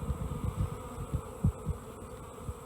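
Honey bees buzz around a hive frame lifted from an opened hive, a dense steady hum close by with individual bees pulsing past.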